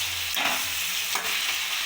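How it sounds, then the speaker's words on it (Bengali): Onion and capsicum frying in a pan with salt while being stirred for chicken kasha, a steady close sizzle broken by two scraping stir strokes, with no talking. "পেঁয়াজ আর ক্যাপসিকাম আমি ভালোভাবে ভেজে নেব।"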